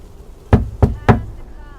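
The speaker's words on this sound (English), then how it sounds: "Knock, knock." Three firm knocks on a door inside the video game Lake, evenly spaced and close, dull and resonant, standing alone over a faint background hum.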